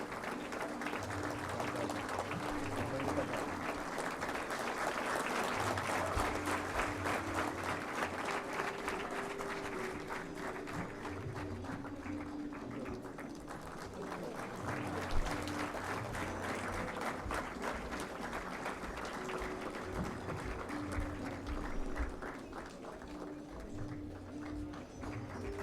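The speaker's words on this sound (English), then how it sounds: "May I request you all to please stand up and give a huge round of applause for such an eminent personality." A standing audience claps through a long, sustained round of applause at an Engineer's Day 2018 ceremony honoring a guest; the even, crowded clatter of many hands carries on without pause, dipping slightly near the end.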